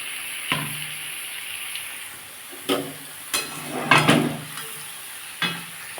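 Ridge gourd pieces added to a frying curry and stirred, a quiet sizzle broken by several sharp clanks and scrapes of a utensil against the pan.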